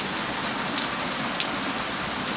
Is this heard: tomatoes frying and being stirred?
no